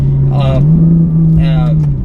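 A Liberty Walk widebody Ferrari engine hums steadily and loud up close, holding a constant droning note from inside the car while a person talks over it.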